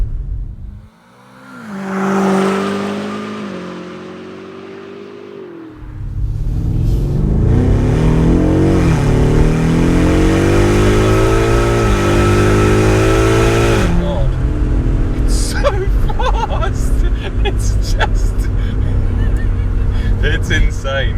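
A 720 bhp 2019 BMW M5 Competition tuned by AC Schnitzer roars up through rising revs, loud and close, holding a strained high drone before the pitch drops and the motor burbles on.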